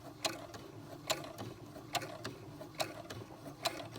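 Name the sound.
SC400 sewing machine stitching a cloth diaper burp rag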